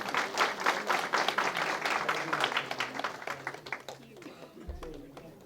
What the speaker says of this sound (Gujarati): તો મહારાજ માટે કોઈ જોરદાર તાળીઓ પાડી દઈશું આપણે